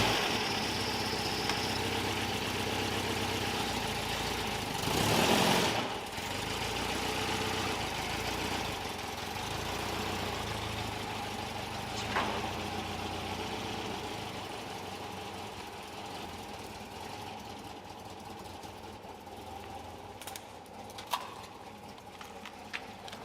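A VW Beetle (Cox) engine idles steadily, heard from nearby in a garage as a low, even rumble that goes on for a while, broken by a short louder burst and a few faint clicks.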